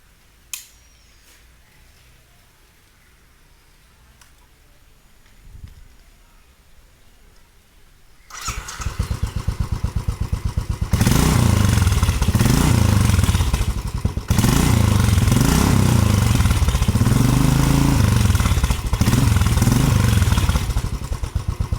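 Quiet background clicks give way to a Royal Enfield Continental GT motorcycle engine with an aftermarket offroad sports silencer starting and idling loudly, then revving hard with a deep, throaty exhaust roar that rises and falls repeatedly.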